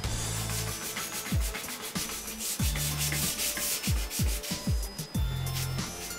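Auto air sealer on a panel is sanded by hand, giving a steady, close rasping scrub with repeated strokes, backed by a low hum and occasional lower sweeping tones, no voices.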